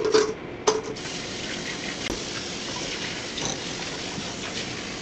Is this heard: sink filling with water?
yes